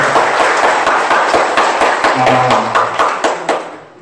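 A church congregation claps during a Catholic Mass homily, a dense burst of hand claps that fills the room and then tapers off over a few seconds.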